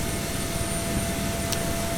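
A jet airliner's engines in a Boeing 767 flight simulator make a loud, steady whine and roar with a constant tone running throughout, plus a brief high click near the end.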